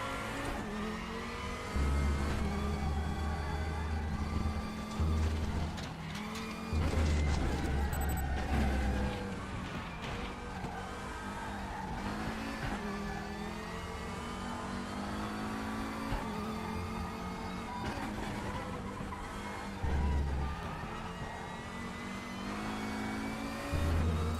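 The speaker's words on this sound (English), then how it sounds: "There's the 5-cylinder Audi engine tone" Five-cylinder Audi race car engine in RaceRoom, revving and shifting through gears continuously over a lap, with repeated surges of acceleration and brief dips between them.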